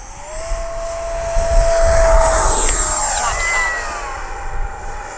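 An FMS Futura V3 80mm electric ducted-fan RC jet howls on takeoff, a loud rising whine with sharp high tones that swells and sweeps as the model passes, heard alone outdoors.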